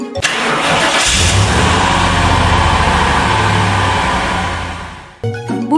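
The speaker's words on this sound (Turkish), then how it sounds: "Araba çalışırken işte böyle ses çıkartır." A car engine runs loud and steady from start to finish, a deep, even rumble with no voices, cutting off abruptly near the end before a brief different sound, presented as a real vehicle sound for children learning about vehicles.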